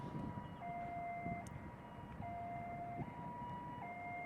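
Finnish emergency vehicle siren sounding a two-tone cadence, alternating high and low held notes that switch every second or so, moderately distant over road noise.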